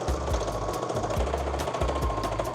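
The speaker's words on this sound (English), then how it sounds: "we're just gonna sew right along the top edge" Sewing machine stitching along the top edge of a front bodice with straps sandwiched inside, a close, rapid, rhythmic mechanical chatter running continuously throughout.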